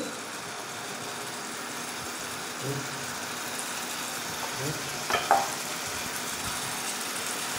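Biryani ingredients being stirred and fried in a pan for a restaurant-style Kolkata biryani: a steady low sizzle throughout, with a few soft scraping stir strokes and a brief louder clatter near the end.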